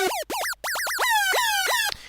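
A high-pitched synth sample built in Native Instruments Massive: a string of rapid pitch-swooping chirps, quick bouncy blips at first, then longer sliding tones, loud and alone, ending in a brief noisy burst.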